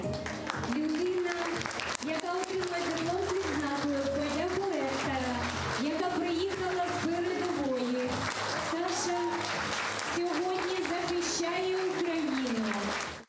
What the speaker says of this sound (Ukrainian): Під бурхливі оплески отримує диплом вчителя початкових класів Олександр.